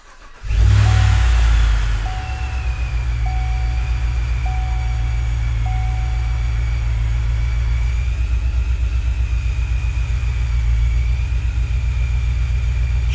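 Truck engine cranking and catching after a calibration change, then settling into a loud, steady idle with a slightly uneven, rich-running pulse close by.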